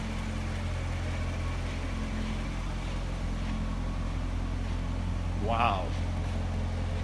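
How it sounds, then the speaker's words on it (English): The exhaust of a 2015 Chevrolet Corvette Stingray rumbles low and steady at idle close by, deep and continuous, with a brief spoken exclamation near the end. "Hear that exhaust chugging away?"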